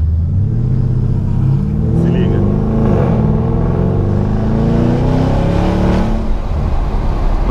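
A Porsche Panamera's engine pulls hard and loud under acceleration, its note rising in pitch through a long sweeping rev and easing slightly near the end, with someone talking over it.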